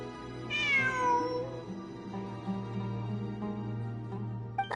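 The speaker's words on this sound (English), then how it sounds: "It really is a cat." A cat gives one clear, rising-then-falling meow up close, followed by quieter soft murmurs over a steady low hum in the background.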